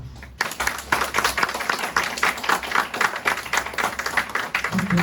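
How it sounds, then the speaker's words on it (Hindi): Audience in a hall claps for an event team, a dense, continuous burst of many hands at moderate volume with no talk over it. "आपको मैं चाहता हूं कि आप उनके लिए सबसे पहले हाल में जरूर ताली बजाएं।"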